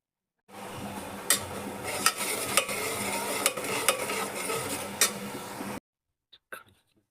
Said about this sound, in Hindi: मेरी कढ़ी बघर गई भाई।